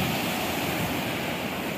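Rough sea waves at a fishing spot, a loud, continuous wash of surf and churning water with wind rumble, close to the microphone and without voices.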